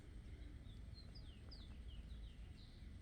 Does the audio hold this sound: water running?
no